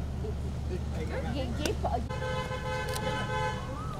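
A car approaches along a roadway with a steady engine rumble under chatter, then sounds a sustained horn blast partway through, close and loud.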